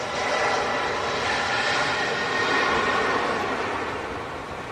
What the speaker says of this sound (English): Let's have another look at this Aer Lingus A330 blasting off.